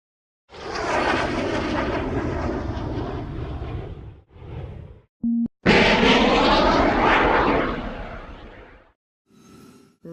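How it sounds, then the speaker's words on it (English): Space shuttle rumbling with a loud broadband roar in long bursts, separated by brief gaps and short tonal blips, fading out near the end. "Space shuttle."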